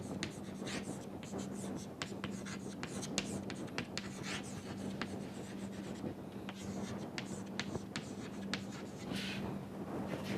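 Pen or chalk scratches steadily during a mathematics lecture, with rapid, irregular strokes running throughout, close and fairly faint, against a low constant hum.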